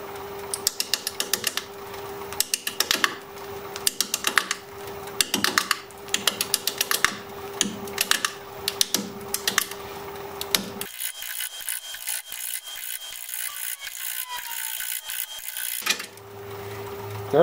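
A half-inch bowl gouge cuts the corners off a wooden vase on a lathe spinning at 450 RPM, giving rapid, uneven chattering knocks over a steady motor hum, then a smoother continuous cutting hiss before the knocking resumes briefly.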